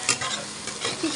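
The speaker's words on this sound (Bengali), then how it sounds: "পেঁয়াজ রসুনটা লাল লাল করে ভেজে নেব" Chopped onion and garlic fry in hot oil and are stirred continuously, a loud close sizzle with scraping strokes of the spatula.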